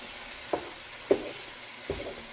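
A spoon stirs apple cider vinegar into a pot of chili in three separate scraping strokes, soft and close, over a faint sizzle with no talking.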